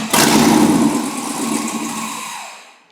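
A rebuilt car engine fitted with a bigger cam cranks and catches, then runs loud and close with a rough, lumpy idle that slowly settles and fades toward the end.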